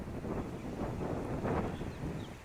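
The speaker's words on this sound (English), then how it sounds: "I'm fighting that wind" Wind blowing outdoors and buffeting the microphone, a steady low roar with gusty swells throughout, loud and close, no talking.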